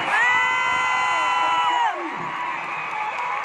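A large concert crowd in Manila cheers, whoops and shouts at full volume, a dense continuous roar with high screams that gently settles slightly after a couple of seconds.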